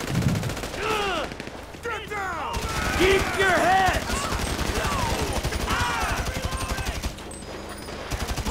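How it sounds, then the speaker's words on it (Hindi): Rapid bursts of gunfire crackle throughout a Grand Theft Auto V firefight, sustained volleys and ricochet-like pings packed densely across the stretch with no talk over them. "कहाँ से गोलियाँ चली, पीछे से गोलियाँ चली"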